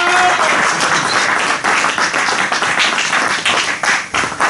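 Loud, dense applause from a church congregation during a Sunday service, steady clapping filling the hall for several seconds without a break.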